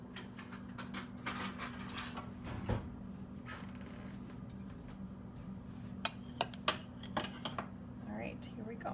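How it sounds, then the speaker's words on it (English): Metal spoons clink and rattle as they are gathered from a drawer for tasting fruit salad, giving scattered close jingles and taps with quieter handling noise between. "So let me grab some spoons"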